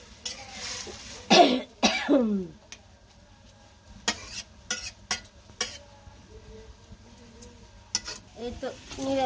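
Water hits a pan of sautéed vegetarian mixed vegetables with a couple of sharp sizzling bursts, followed by quieter stirring scrapes and intermittent clatter near the pan. Someone talks briefly in between.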